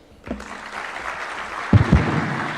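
A room of guests at a State House lunch gives the Kenyan President a round of applause, with soft, scattered clapping rising into a few sharper claps near the end.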